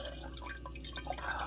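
Starter tea and a kombucha scoby are poured back into a batch of brewed tea, giving a steady, faint trickle of liquid with soft dripping throughout and no voices.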